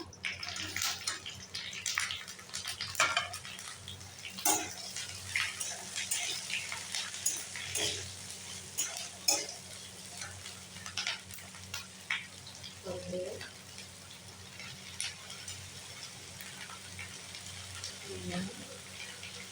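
Chopped chillies and tomatoes sizzle and fry in a pan while being stirred, with repeated scraping and clattering strokes over a continuous close, hissing fry.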